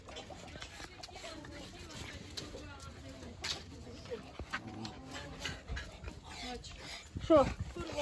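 Dogs pant and whimper close by, with a few brief barks and a louder burst near the end, while someone talks over them.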